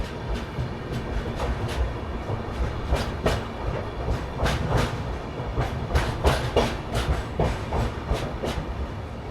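The Garib Rath Express on the Lucknow–Raipur route rumbles along the rails from on board, with a steady low roar and rhythmic clickety-clack wheel beats over joints, close and continuous.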